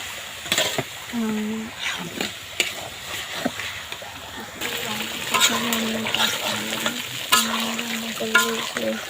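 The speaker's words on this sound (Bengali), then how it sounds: "পাতা দিয়ে রান্না করি দেখুন দুই চুলার মধ্যে পাতা দিয়ে বসিয়েছিলাম" Chicken curry cooking in a pot over a leaf-fuelled wood stove, with sizzling and a spoon stirring and scraping against the pot in irregular bursts, some of it under quiet background voices.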